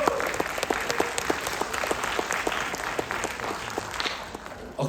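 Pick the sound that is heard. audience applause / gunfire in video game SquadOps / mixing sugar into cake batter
audience applause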